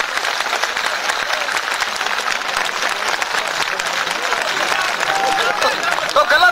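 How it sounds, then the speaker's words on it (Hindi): Thousands of people at an outdoor jal satyagraha rally in Gogalgaon, Khandwa, clap loudly and continuously, a dense roar of hands with crowd noise mixed in throughout. "एक बार इन्हें अपनी जोरदार तालियां बजाकर भोपाल तक सूचित करिए"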